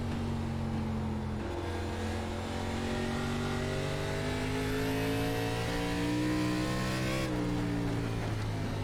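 ARCA Series stock cars racing at Myrtle Beach Speedway in the iRacing simulator: a steady close engine drone with rising harmonic pitch as other cars close in, a second engine note joining and a brief shift near the end, with no talk.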